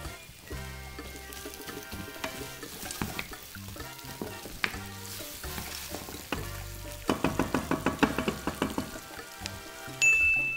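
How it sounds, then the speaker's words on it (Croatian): Chopped onion softening in olive oil in a pan that was just used to fry meat for Ilok-style ćevapi, giving a gentle, continuous sizzle with soft crackles and a few sharper pops toward the end. "Dok se naš luk lagano dinsta,"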